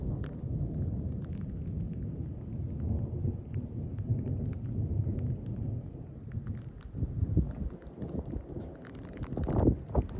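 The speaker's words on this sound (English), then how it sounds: "The storm's coming in." Low rumbling thunder rolls through steady rain and wind noise, a continuous stormy wash with swells of louder rumble near the end.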